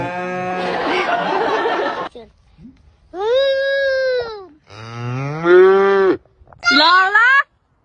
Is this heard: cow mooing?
yes